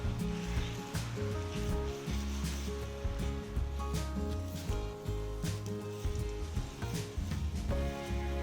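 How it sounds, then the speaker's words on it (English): Whisked egg mixture sizzles in an oiled pan as scrambled eggs cook, a steady close frying hiss with crackles under background music. "Pour in the whisked egg mixture and make the scrambled eggs."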